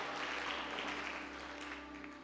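A congregation at a Hindi Christian worship service applauds faintly in a soft, continuous wash of clapping that fades slightly toward the end, heard at a distance with no voice over it.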